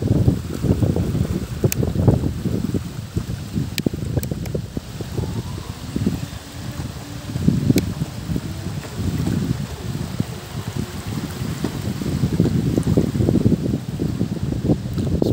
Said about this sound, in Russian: Ветер у нас сейчас достаточно экстремальный